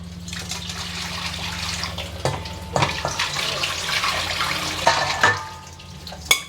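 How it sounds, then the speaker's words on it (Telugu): Water draining from washed flattened rice (poha) in a strainer gives a close, continuous splashing trickle with a few louder splashes and knocks scattered through it, and no speech. "ఇక్కడ పోసేస్తున్నాను వెళ్ళిపోతాయి నీళ్ళు"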